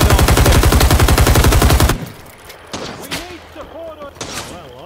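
Rising Storm 2: Vietnam gunfire, a loud sustained automatic burst that cuts off abruptly, followed by scattered distant shots and thumps while a voice shouts over the battle.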